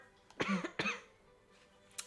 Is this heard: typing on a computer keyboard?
no